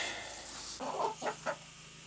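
A hen clucks a few times in short bursts over a steady background hum, fairly quiet and close.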